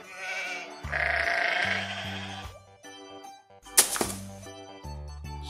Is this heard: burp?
no